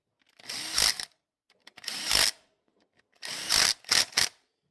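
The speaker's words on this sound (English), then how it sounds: "So let's tighten all the bolts for the actuators." A power tool drives bolts into the valve cover actuators of a 2014 Jeep Grand Cherokee in four short whirring bursts separated by pauses. The last two bursts come quickly in succession, and the sound is close and clear.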